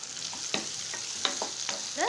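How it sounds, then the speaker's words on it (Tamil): Halved drumstick pieces are stirred and sautéed in a hot pan, with a steady sizzle broken by several sharp spatula scrapes and clinks at a loose, uneven rhythm, close and clear. "இப்போ இதை சேர்த்து நல்லா வணக்கிடலாம்."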